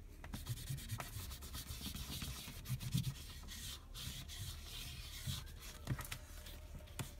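Cotton round soaked in acetone nail polish remover rubbed over a painted nail, a soft, steady scrubbing friction, close and fairly quiet, running continuously with small bursts of stronger rubbing.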